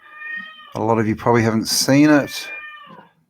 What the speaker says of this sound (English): That's my cat screaming at me in the background.